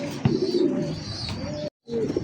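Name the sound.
white Lotan pigeon cooing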